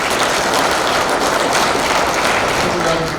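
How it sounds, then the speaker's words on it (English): Banquet audience at a racing awards dinner clapping, dense steady applause, loud and close throughout, with no break in the clapping. "Let's give Hoosier Race Tires a nice round of applause."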